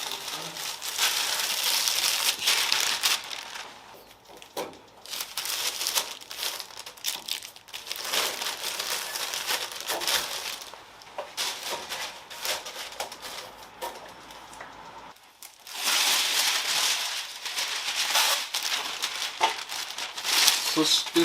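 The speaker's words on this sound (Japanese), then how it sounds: "バックドア、見切るのはここのシーラーの部分、ここにこういう感じで紙を貼っていきます。" Masking paper being handled and pressed onto the back door of a Mazda RX-7 FD3S during a restoration repaint, close crinkling and rustling in repeated bursts, with a voice talking over parts of it.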